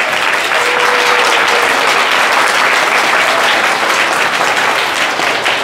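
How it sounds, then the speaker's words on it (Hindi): Children in a classroom clapping together in loud, dense applause that holds steady throughout, with no talk over it. "सब लोग जोरदार तालियां बजाइए अपने लिए।"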